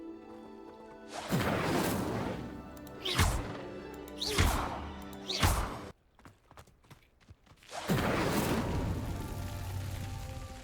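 A fire spell being cast in the Hogwarts Legacy video game: several loud whooshing bursts of flame, each rising and falling, with a brief choppy gap before a longer sustained roar of fire at the end.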